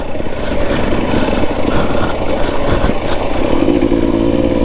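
Dirt bike ridden along a wooded trail at Land Between the Lakes Turkey Bay, its engine droning loud and steady close by, with rough clatter throughout and no pauses.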